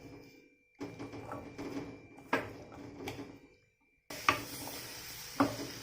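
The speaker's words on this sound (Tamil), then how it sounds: "நாம் எடுத்து வச்ச இந்த கிட்னி பீன்ஸை உள்ளே போட்டு மிக்ஸ் பண்ணி எடுத்துடலாம்." Spoon stirring kidney beans into a cooked onion masala in a metal pan, with scraping knocks and soft sizzling, a few sharp clanks against the pan and a brief quiet gap midway.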